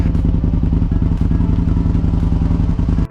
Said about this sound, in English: It has aftermarket stain and tune exhaust that makes it sound just glorious.